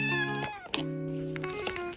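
An indoor house cat gives two close, clear meows, the first drawn out and the second shorter and rising, with no speech around them.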